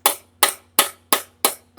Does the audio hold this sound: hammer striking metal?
yes